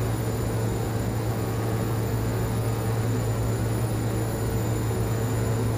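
Engines of a King Air C90B turboprop in the FSX flight simulator roar steadily during takeoff, a loud constant drone with a strong low hum and high tonal whine.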